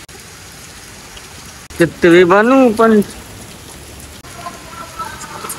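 Steady rain falls throughout, a constant patter on surfaces outdoors with a short burst of a voice speaking in the middle before the rain continues alone.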